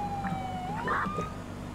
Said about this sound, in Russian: Я слышу сирены.